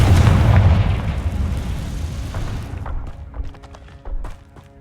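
A fire spell explosion in the video game Hogwarts Legacy, one loud booming blast that rumbles away over a few seconds, followed by lighter game effects and chimes.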